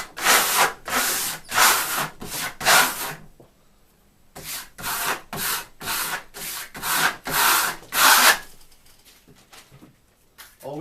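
Steel trowel pressing a tight second coat of Marmorino Venetian lime plaster onto a wall, loud rhythmic scraping strokes in quick bursts, pausing briefly before another run of firm swipes.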